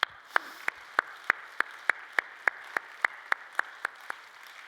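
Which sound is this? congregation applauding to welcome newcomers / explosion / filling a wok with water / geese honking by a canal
congregation applauding to welcome newcomers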